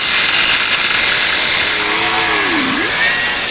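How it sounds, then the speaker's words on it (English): A cutting wheel slices excess material off an Ihle cone liner (73399566R), a loud steady grinding whine filling the whole stretch with a pitch that dips and drops near the end. "I'm going to take a cutting wheel and just go right across this line and just take a little excess out"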